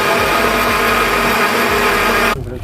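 A blender whirs loudly, churning young coconut into carp fishing bait with a steady high-pitched motor drone, then cuts off abruptly near the end.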